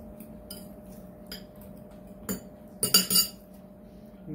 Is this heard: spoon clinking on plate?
yes